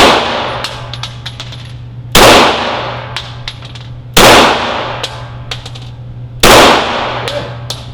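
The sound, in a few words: handgun shots fired at a target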